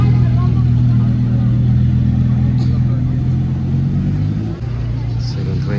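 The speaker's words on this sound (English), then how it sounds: "Lamborghini." A Lamborghini engine idles with a steady low burble in a luxury street setting in Monaco, holding loud and close over several seconds, with a brief dip in the sound near the end.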